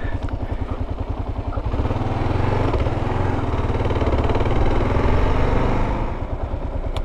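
A KLR 650 motorcycle engine idles close by, a loud, even thumping beat that swells a little midway and then settles, with no voices over it.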